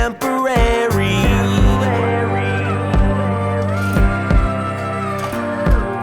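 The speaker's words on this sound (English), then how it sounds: "send it into the delay, and it's going to echo out over this interlude" A sung vocal line fed into a delay effect, its repeats echoing out across a dense, full musical interlude of sustained chords and drums, loud and steady throughout.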